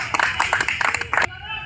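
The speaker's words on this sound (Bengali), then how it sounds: "একটি করতালি রে আমরা" Clapping for the man of the match at a local cricket club award ceremony, a short burst of hand claps from a small group outdoors that stops abruptly, with a voice over it.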